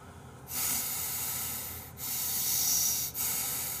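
Three forceful breaths rush out through the nose while eating hot food, each a loud airy hiss lasting over a second, close to the microphone.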